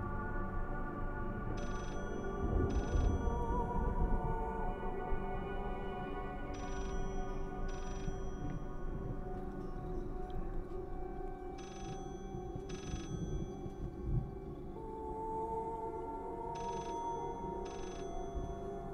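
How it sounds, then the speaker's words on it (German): A telephone rings repeatedly in the video game Layers of Fear, paired electronic trills recurring every few seconds over a low, dark ambient drone, with no talking. "Können wir an dem Telefon denn nochmal rangehen oder wählen?"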